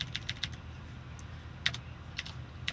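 Keystrokes on a computer keyboard while code is typed into a scripting window, coming in quick short bursts of clicks with pauses between them, fairly close and not loud, with no speech.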